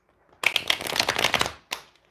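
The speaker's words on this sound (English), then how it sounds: "So now we're going to shuffle." A deck of cards being riffle-shuffled up close, a dense flurry of flicking for about a second, followed by a short single bridge-like rustle.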